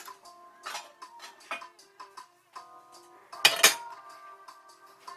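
A metal lid clatters onto a pot of instant kimchi ramen on the stove, one sharp clang after a few light clinks and ringing metal tones, close and fairly quiet.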